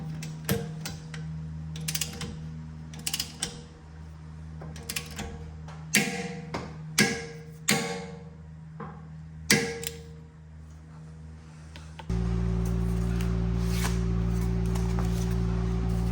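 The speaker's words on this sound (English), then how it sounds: "I'm going to torque the axle nut to 85 foot-pounds" A torque wrench tightening an axle nut on an Audi A6 Quattro clicks in irregular bursts of sharp ticks, close by, then a steady mechanical hum takes over near the end.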